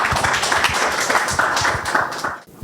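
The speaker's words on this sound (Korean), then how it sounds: "박수 부탁드리겠습니다" Audience clapping at a team presentation event, dense and loud for most of the stretch before breaking off abruptly near the end.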